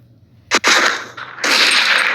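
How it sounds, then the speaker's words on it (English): Gunfire from a gun in a modded video game: two sharp close shots in quick succession, then a longer loud burst of rapid fire that continues to the end. "That's the noise that gun makes."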